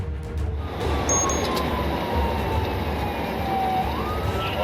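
Police sirens wail over the roar of traffic during a high-speed chase, one tone sweeping upward near the end, loud and continuous with engine noise beneath.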